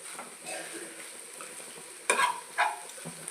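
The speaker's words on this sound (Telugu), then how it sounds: "ఇదిగోండి ఇలా కలుపుకొని ఇలా వేపుకోవాలి." Egg fried rice is stirred and fried in a pan, giving a soft, quiet sizzle with scraping, broken by two sharper clinks of a utensil against the pan partway through.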